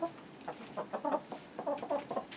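Chickens cluck in a wooden coop insulated for harsh Manitoba winters, a run of short, close, overlapping clucks and soft calls in uneven bursts with no talking.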